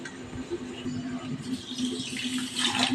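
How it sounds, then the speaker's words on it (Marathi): Water being poured from a vessel onto a large bowlful of sugar in a home kitchen while making a sweet syrup, a steady close splashing trickle that swells louder near the end, with no talking. "त्याच्या अर्धी वाटी पाणी घालणार आहे"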